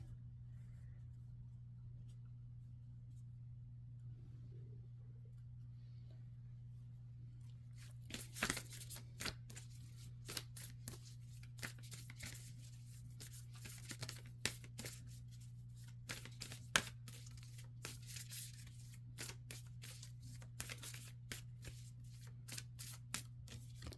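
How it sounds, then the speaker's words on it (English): A deck of tarot cards is shuffled quietly up close with repeated riffling, flicking bursts over a low steady hum. Faint muffled sounds come first, then the shuffling starts partway in and carries on to the end. "as I was shuffling these cards"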